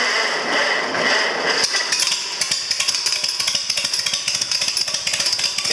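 An International inline-six engine starts up after having been choked and settles into a loud, close, rapid rhythmic running chatter, with no talking over it.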